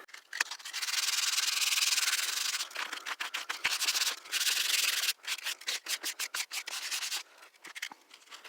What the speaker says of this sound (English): To let that dry up a little bit, give it a quick little sand